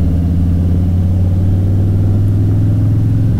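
A deep, steady Harley-Davidson Softail Slim engine rumbles loudly at a low idle, its exhaust throbbing with an even pulse throughout, no voices present.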